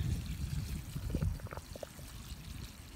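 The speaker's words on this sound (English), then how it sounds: "grab yourself a 5-gallon bucket and bring it over to the tree, and you just want to kind of soak the tree pretty good." Water poured from a 5-gallon bucket onto a newly planted tree, a soft, fairly faint trickling pour running steadily with a few gurgles, no voices.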